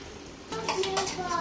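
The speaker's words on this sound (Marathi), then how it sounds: "काकी आता मटणाला फोडणी घालताय ना तुम्ही?" Mutton goes into hot oil for a Konkani-style phodni, a short burst of sizzling and stirring with a clink of a pan, fairly faint and close.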